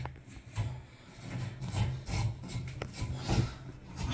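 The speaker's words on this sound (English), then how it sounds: "Okay, guys, we're gonna clean up the threads a little bit." Pipe threads being cleaned up by hand during a small plumbing service call, a steady scraping, rasping rub repeated in uneven strokes close to the microphone, with low mechanical rattles underneath and no talking.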